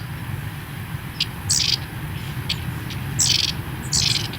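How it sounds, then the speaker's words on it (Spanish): Several short, high bird calls come in bursts over a steady low hum, moderately near and clear, with no talking. "Ahí está, ahí se escuchan. Y son además unos pájaros súper curiosos"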